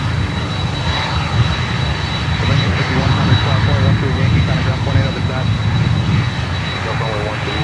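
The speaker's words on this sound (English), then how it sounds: "Next inbound, American Airlines from Havana," An American Airlines airliner inbound from Havana roars steadily at Miami airport, a broad continuous engine rumble with a thin high whine, heard from a moderate distance with a voice talking intermittently over it.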